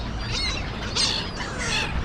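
Seagulls and crows squawk while competing for food on a wintry day, three harsh calls rising over a steady windy outdoor rumble.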